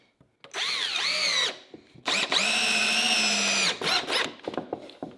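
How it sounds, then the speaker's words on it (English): A cordless power drill drives screws into a sawhorse board, two loud whining bursts, a shorter one then a longer sustained run, followed by a few brief sputtering trigger pulses up close. "Let me turn my drill up."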